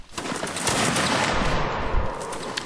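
A musket volley from a line of players in a video game regiment, with a dense, loud burst of overlapping shots rolling together into a crackling roar that lasts a couple of seconds.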